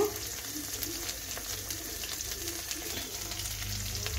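Ginger, curry leaves, chillies and mint sizzling in hot oil in a pan, a steady crackling fry with occasional stirring scrapes, close and continuous throughout.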